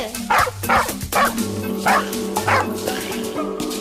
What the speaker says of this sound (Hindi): वो कुत्ता तो हमारे पीछे ही आ रहा है।